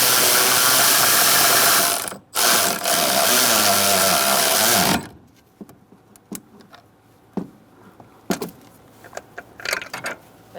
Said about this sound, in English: we're going to use a 14mm socket. And you're going to tighten up the other one.